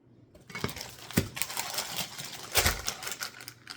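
A kitchen knife makes a small dice on an onion, a quick run of sharp, irregular taps against the cutting board, close by and clear, with no voices.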